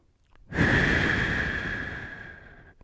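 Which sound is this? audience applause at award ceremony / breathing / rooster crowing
breathing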